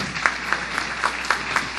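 Church congregation applauding newborn babies' mothers during a Baptist service, a steady wash of clapping with rhythmic swells about every quarter second, fairly full and close throughout the short stretch.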